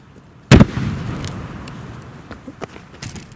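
A single sharp, loud bang from an exploding acetylene-filled balloon bursts out, followed by a fading rumbling echo and a few scattered faint pops outdoors.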